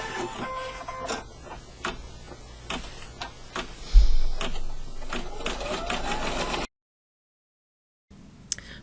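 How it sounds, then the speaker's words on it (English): A home embroidery machine stitches a placement outline on fabric with a steady, close, rhythmic ticking and whirring for several seconds before it stops abruptly into silence. "I'm ready to do step number 1, which is simply drawing the placement stitch for our fabric."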